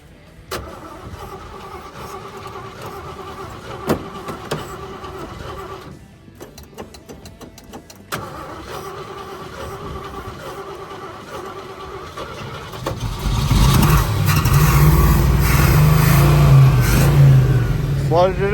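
A 1955 Chevy engine cranking and then catching and revving, low mechanical churning with a few sharp clicks, rising into a louder, rougher running roar near the end.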